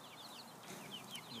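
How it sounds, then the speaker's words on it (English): Chickens cluck softly inside a homemade wooden chicken tractor, several quiet, short calls scattered over a low outdoor background. "Look at the chickens."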